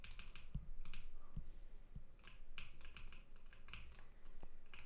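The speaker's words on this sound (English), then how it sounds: "I'm pressing the 1 key now" Keys pressed on a computer keyboard while testing game input, scattered soft taps and clicks at a quiet level, irregular and close.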